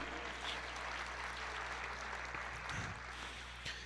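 Church congregation applauding during worship, a faint, even wash of clapping over a low steady hum, continuous for a few seconds.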